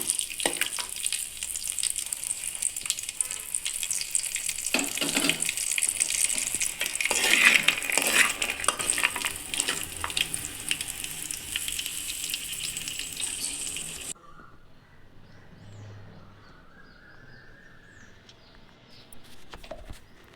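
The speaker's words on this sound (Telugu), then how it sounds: "ఇట్లా కలుపుతూ వేయించుకుంటే అన్ని వైపులో బాగా వేగుతుంటాయి" Peanuts stir-fried in a dry pan for Andhra-style peanut chutney, a continuous faint sizzle with small clinking rattles as the nuts are tossed, then a quieter stretch near the end.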